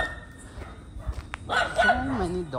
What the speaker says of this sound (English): So many dogs here.